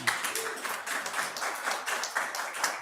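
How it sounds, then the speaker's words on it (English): Steady crowd applause at a South Gate city council meeting, dense continuous clapping from a roomful of people, moderately loud and sustained without pause. "I would ask that we hold the applause."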